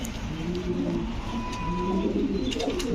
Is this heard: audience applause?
no